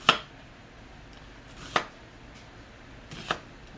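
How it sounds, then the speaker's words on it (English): A knife chops onions on a cutting board in three sparse, sharp knocks spaced more than a second apart, close and crisp over a quiet room. "I'm going to finish cutting up these onions."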